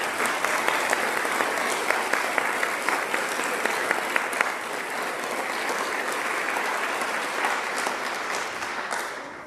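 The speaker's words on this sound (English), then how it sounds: "Students, families, how about a round of applause for our staff?" Steady, dense applause from a large crowd of students and families at an 8th grade stepping-up ceremony, clapping continuously at an even level before tapering off slightly at the end.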